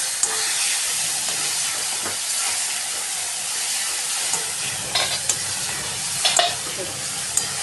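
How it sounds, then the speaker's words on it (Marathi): Mashed eggplant mixture for Maharashtrian baingan bharta sautés in a pan, a continuous bright sizzle and hiss with scraping stirs and a few clinks of a spatula near the end, close and alone. "झाकण ठेवून आता परतून घेते."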